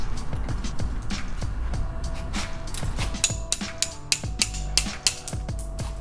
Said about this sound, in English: I took my time removing a stuck socket while he held up the control arm